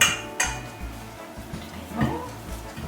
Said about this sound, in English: Give it a mix in like that